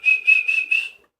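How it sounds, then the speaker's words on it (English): A person whistles a short tune of about four sustained, slightly wavering notes in a steady rhythm, close and clear, with no talk over it. "Can you whistle?"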